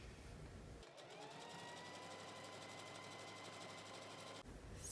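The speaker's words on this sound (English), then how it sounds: "I'm just sewing this together to make one huge piece." A sewing machine stitches fleece fabric together, its rapid, even mechanical whir starting abruptly, running steadily for several seconds, then stopping, heard close and alone.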